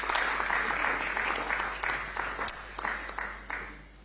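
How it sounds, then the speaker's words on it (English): A seated forum audience at a public forum in Ghana gives a round of applause welcoming a panelist, steady clapping that thins into scattered claps as it dies away. "Let's welcome him with a round of applause."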